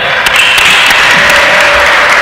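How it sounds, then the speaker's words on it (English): Steady, loud applause from a large crowd fills the room without pause. "Let's give a round of applause to all the incredible Boys Nation candidates in this room today."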